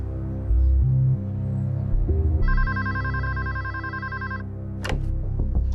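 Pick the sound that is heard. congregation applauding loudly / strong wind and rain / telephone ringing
telephone ringing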